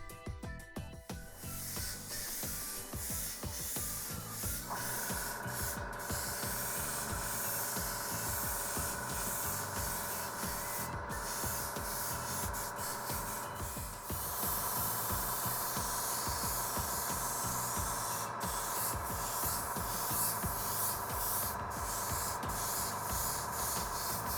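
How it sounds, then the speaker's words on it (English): An airbrush sprays XF23 light blue paint onto a 1/700 Aoshima H.M.S. Exeter sea diorama, giving a steady, close hiss that runs unbroken and grows slightly louder partway through. "Please note that I am spraying the paint at an angle to the surface."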